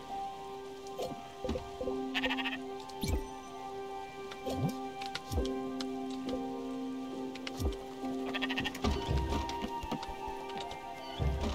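Sheep in the video game Spiritfarer let out a series of short, faint bleats over a soft patter of rain and ambient game sounds.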